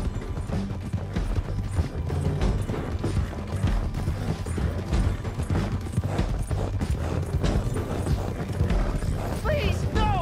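Horse hooves clip-clopping in the Red Dead Redemption 2 video game, rhythmic steady hoofbeats under busy mechanical clatter and voices talking throughout.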